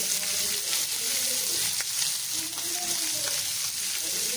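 Fenugreek leaves, tomato and chilli fry with onion in a pan, a loud, steady, close sizzle that hisses continuously throughout, with a few faint clicks of stirring underneath.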